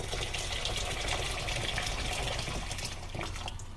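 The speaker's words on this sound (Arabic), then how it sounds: "3 أكواب زبيب نضيف عليها لترين موية فايحة" Boiling water is poured over three cups of raisins in a pot, making a steady, close, full gushing splash that continues throughout without pause or speech.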